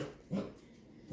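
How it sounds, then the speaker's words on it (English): A pet dog makes short odd whimpering, grunting noises indoors, two brief faint bursts close by. "Sorry about my dog making weird noises."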